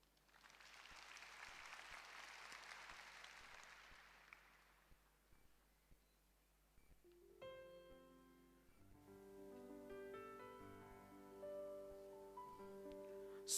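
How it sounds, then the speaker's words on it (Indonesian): A church congregation applauds during a worship service, a steady wash of clapping for about five seconds that fades before music with sustained tones takes over. "Tepuk tangan."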